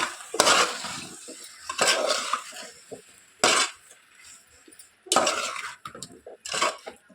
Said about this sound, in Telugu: ఇప్పుడు ఒకసారి మొత్తం బాగా మిక్స్ చేసుకోవాలి